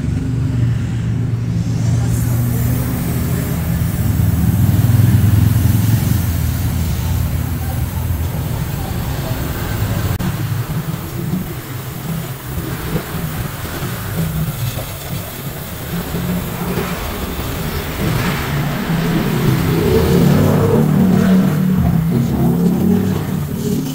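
Daihatsu Ayla 1.2 with a newly fitted deep bass aftermarket exhaust, its engine droning low and steady up close with a couple of rising revs, voices talking faintly over the rumble.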